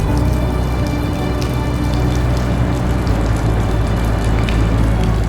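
A heavy downpour during the 2015 Chennai floods pours loud and continuous, dense raindrops drumming on surfaces close by with a low rumble underneath and no voices.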